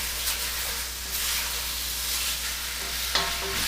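Wild turkey meat fries in a pot of hot oil for a spicy stew. A constant close hiss and sizzle runs throughout, with a few light stirring clicks near the end.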